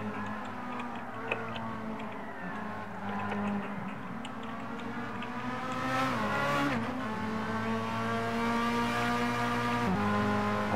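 A race car in the GTfusion sim racing game, a Group A race, drones along with a steady tonal engine note that rises in pitch as it revs, with faint ticking over it.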